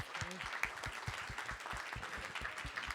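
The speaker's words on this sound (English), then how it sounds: "Please give them a wonderful round of applause." Applause from an event audience fills the room steadily, with many overlapping hand claps forming a dense, even wash at moderate volume throughout.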